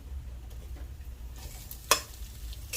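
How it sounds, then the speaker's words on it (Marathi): Smashed potatoes are tipped into a pan of hot spices for bread pakoda filling and stirred, with a soft sizzle and scraping under a low background hum and one sharp clatter of a utensil. "आता आपण लगेचच त्याच्यामध्ये हे स्मॅश केलेले जे बटाटे आहेत ते टाकून घेऊया"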